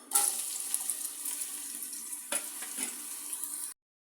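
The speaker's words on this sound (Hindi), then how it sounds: "ऑयल हमारा गर्म हो गया। अब मैं इसमें डालूंगी प्याज।" Sliced onions frying in hot oil in a home kitchen pan, giving a steady close sizzle with crackling bursts that runs unbroken for almost four seconds, with no talk, then cuts off.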